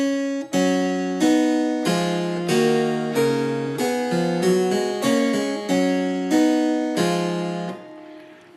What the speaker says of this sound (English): if you turn the music up the other way around and read it backwards, what you get is this.